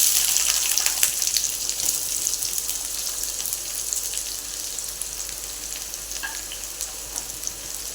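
Onion frying in oil with mustard seeds in a pan, a dense continuous sizzle, close and fairly loud, fading slightly toward the end.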